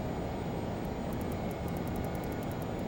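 Learjet jet engines roar steadily inside the cabin as the aircraft approaches a gravel runway on a flight to Antarctica, a continuous broadband rumble with faint periodic high ticks.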